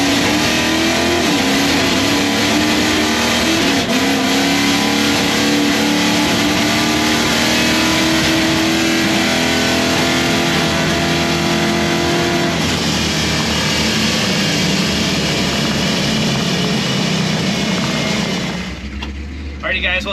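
A 1968 Plymouth Satellite drag car running nitrous accelerates hard at a drag strip, its engine roaring loud and close with rising pitch through gear changes, sustained for nearly twenty seconds before easing off.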